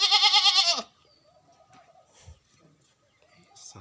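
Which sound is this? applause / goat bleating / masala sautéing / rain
goat bleating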